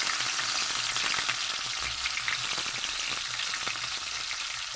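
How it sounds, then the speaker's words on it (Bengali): Chopped onions frying in a pan with sugar, chilies and fried chilies, a steady close crackling sizzle with scattered pops, unbroken and without talk. "পেঁয়াজটা লাল হয়ে ভাজা হয়ে গেছে"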